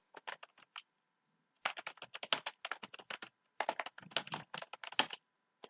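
Typing on a computer keyboard while writing text in MS Word: close, crisp keystrokes come in quick irregular bursts separated by short pauses, with no voices.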